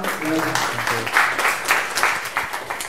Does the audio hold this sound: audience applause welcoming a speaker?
yes